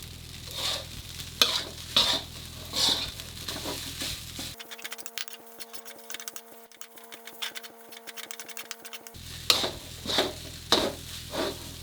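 Rice stir-fried with shrimp paste over high heat crackles steadily, with repeated spatula scrapes and taps against the pan. A loud mechanical whirring hum sits in the middle stretch. The sounds are close and there is no talk.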